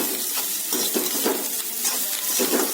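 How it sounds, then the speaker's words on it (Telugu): Pesarattu pieces, with onions and tempering seeds, sizzle and fry in a kadai while being stirred, giving a steady close crackle broken by repeated scraping strokes, with no talk. "ఈ తారింపు గింజంతో పాటు ఉల్లిపాయలతో పాటు ఈ పెసరట్టు ముక్కల్ని కూడా వేగేలాగా చక్కగా తిప్పుతూ వేయించండి"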